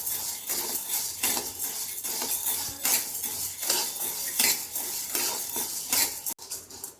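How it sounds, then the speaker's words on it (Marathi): One cup of chana dal dry-roasting in a pan over medium heat, stirred steadily with a spoon: close, continuous scraping and rattling of the grains against the metal, with no talking. "आता 1 वाटी हरभरा डाळ, ती आपण मीडियम हीटवर भाजून घ्यायचं."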